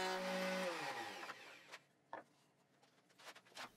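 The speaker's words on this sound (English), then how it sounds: "I wanted to give the bottoms a big round over at the router table" Router table cutting a large roundover on the bottom edge of a wooden bench part: a loud, steady high-pitched whine spinning down over the first second and a half, followed by scattered knocks and handling clatter.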